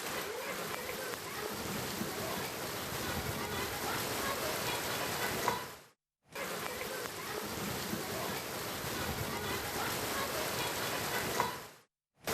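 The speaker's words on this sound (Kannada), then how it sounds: "ಧಾರಾಕಾರ ಮಳೆ" Heavy thunderstorm rain pours down over Belagavi streets, a dense, steady hiss of downpour that is briefly cut off by a short silent gap before resuming just as strongly.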